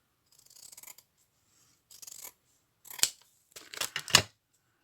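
Scissors snipping a small piece of paper close up: a soft slide of the blades, then several crisp, quick cuts in short bursts separated by silence.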